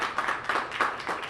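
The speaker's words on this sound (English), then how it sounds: "yes, a big round of applause" Audience at a Washington DC fair housing symposium clapping for the mayor as he is introduced, moderately loud applause pulsing in uneven waves roughly three times a second.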